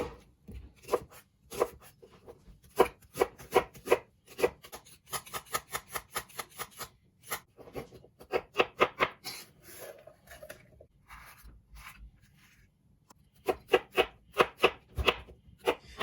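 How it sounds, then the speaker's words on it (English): Knife chopping half an onion, red pepper and hothouse cucumber into 1-inch pieces for gazpacho: sharp, rapid knife strikes on a board in quick bursts with short pauses, close and clear, no talking. "taking half an onion, 3/4 of the red pepper, and about half of the hothouse cucumber, and cut them into 1-inch pieces"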